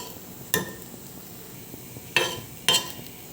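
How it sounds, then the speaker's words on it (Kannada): Slices of elephant foot yam sizzle on a tawa, and three sharp metallic scrapes and clinks mark the spatula flipping them over a steady, soft frying hiss. "ಸುವರ್ಣಗಡ್ಡೆ ತವಾ ಫ್ರೈ ನೋಡಿ ಚೆನ್ನಾಗಿ ಬೆಂದಿದೆ. ಬನ್ನಿ ಉಲ್ಟಾ ಮಾಡಿ ನೋಡೋಣ."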